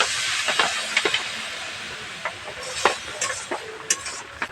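Water is added a little at a time to semolina (suji) cooking in a pan for jhal suji, giving a steady hissing steam sizzle with scattered clicks and scrapes of stirring, close and moderately loud.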